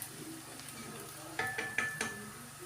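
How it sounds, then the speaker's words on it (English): Onions sautéing in a pan for a Nigerian pepper sauce, a soft steady sizzle with a few louder stirring scrapes and clinks near the end, close and alone with no talk. "So I allowed my onion to saute for a while."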